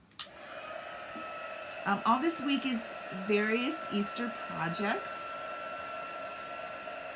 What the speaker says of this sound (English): I'm going to bring my dryer over and we're going to dry him.